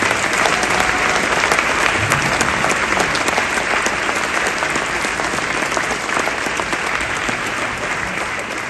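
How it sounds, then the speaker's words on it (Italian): A theatre audience breaks into loud, sustained applause, a thick continuous roar of many clapping hands filling the hall, steady throughout and tapering only slightly at the end. "a cui vorrei che facesse un applauso"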